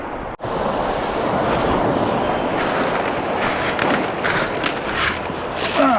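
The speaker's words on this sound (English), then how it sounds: "because the waves are coming across us left to right here." Sea waves break and wash along a fishing beach in a continuous close rush of surf, with wind buffeting the microphone and a few louder surges toward the end.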